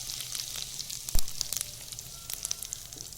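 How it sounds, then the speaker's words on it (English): A teaspoon of hing drops into hot oil and sets off a sharp burst of sizzling, followed by steady crackling and spitting close up, with no voices. "Now oil is heated, add around 1 teaspoon of hing to it."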